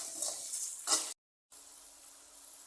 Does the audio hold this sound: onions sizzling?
yes